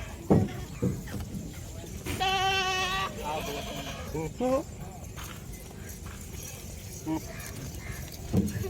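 Goats bleat nearby at a goat farm, one clear bleat standing out among scattered animal noises and shuffling, with people talking throughout.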